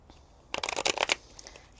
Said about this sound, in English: I'm going to be shuffling the cards 3 times. I have one more shuffle here.